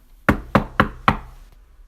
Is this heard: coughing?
no